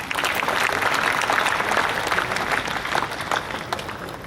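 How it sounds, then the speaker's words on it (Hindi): An audience at a poetry gathering applauds, with dense steady clapping at close range that slowly thins toward the end. "ताली बजाओ भाई।"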